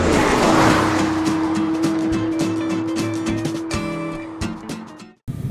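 A tiny Smart Fortwo city car, about three metres long and first made in 1998, drives at speed on a test drive with engine drone and tire noise, loud and close, cutting out abruptly near the end.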